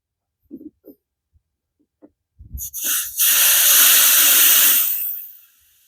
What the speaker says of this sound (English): I'm going to purge the air out because now the refrigerant is inside this hose